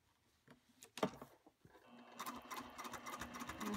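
A domestic sewing machine stitching up close, after a couple of soft handling knocks the motor starts and runs a steady rapid mechanical whir with regular needle clatter for the last couple of seconds.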